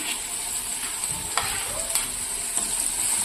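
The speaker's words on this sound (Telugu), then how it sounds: "ఈ విధంగా పచ్చిమిర్చి వేసుకొని ఇలా కాసేపు కలుపుకోవాలన్నమాట" Green chilies sizzle and fry in a pan of browned oil, with a steady hiss and a few scraping stirs of a spoon, close up and with no voices.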